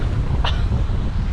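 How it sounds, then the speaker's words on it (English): Strong wind buffets a beach on the coast, a steady low roar and rumble running through the whole short stretch, with one brief brighter gust or rustle near the middle. "it's very windy"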